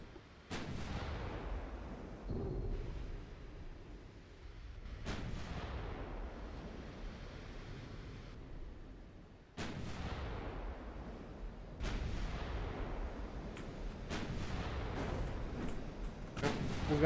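Heavy naval guns fire in Ultimate Admiral: Dreadnoughts as a series of loud, deep booms at irregular intervals, each with a long rumbling decay, over continuous battle noise.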